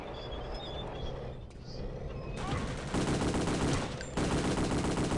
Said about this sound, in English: That's a powerful gun.